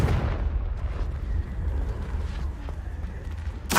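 A Confringo spell going off in Hogwarts Legacy produces a dense, rumbling blast with sustained heavy low-end roar and crackle, ending in a sharp burst.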